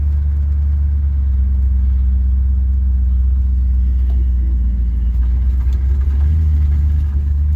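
A 1969 Dodge Polara nine-passenger wagon with a 318 V8 rumbles along while driving, giving a loud, steady, low engine drone close up throughout, with no talking.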